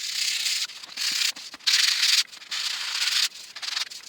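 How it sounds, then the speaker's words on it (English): Fine filler on new plaster is hand-sanded with 180 grit sandpaper, close up: several short, raspy back-and-forth strokes with brief pauses in between. "Just a little bit of light 180 on that."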